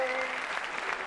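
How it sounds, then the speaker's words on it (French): Studio audience applause on a French television show, a dense, sustained roar of clapping from a large crowd, filling the whole brief moment. "Applaudissements pour Emmanuel."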